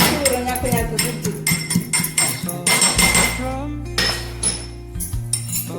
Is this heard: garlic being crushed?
yes